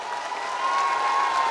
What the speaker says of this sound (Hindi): जरा जोर से ताली बजाओ कुमार जी के लिए